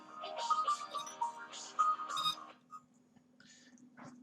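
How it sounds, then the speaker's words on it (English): A phone ringtone from an incoming call chirps as a repeating high melodic phrase over about two and a half seconds, then stops, leaving a faint steady hum with a few soft clicks. "Bloody phone call."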